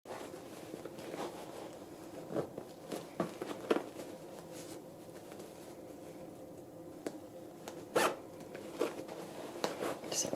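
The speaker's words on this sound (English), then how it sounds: "I'll shove him way down in there while I zip this shut." Close-up rasping of an invisible zipper being drawn shut on a fabric pillow cover, a series of short zips and soft fabric rustles scattered over a quiet background, with no talking.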